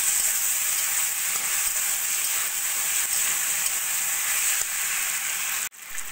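Ginger garlic paste and slit green chillies fry in oil with spices, a loud continuous sizzle close by that cuts off briefly near the end before resuming.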